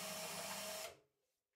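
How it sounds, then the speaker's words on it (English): A power drill whines steadily as it bores holes in a panel of a Simplex Prairie model tank, holding a loud even pitch for under a second before spinning down and fading to quiet. "I'm drilling holes, followed by countersinking them, to take some 6-bar countersunk bolts"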